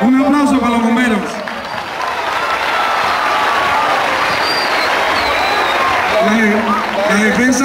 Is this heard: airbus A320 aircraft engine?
no